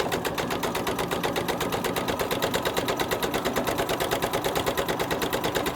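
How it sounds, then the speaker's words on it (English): A sewing machine runs steadily on a regular stitch while sewing a gown's stomacher, with a fast, even mechanical chatter close up. It continues without pause and no voice is heard. "I'm using just a regular stitch on the sewing machine"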